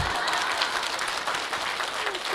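An audience claps at a talk, a dense, fairly soft patter of many hands that runs evenly throughout with no voices over it.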